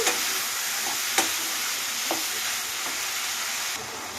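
Fried yardlong beans being stir-fried with sugar in a pan: a dense, steady sizzle with a few distinct scrapes or knocks of the spatula against the pan, close and fairly loud, no voices.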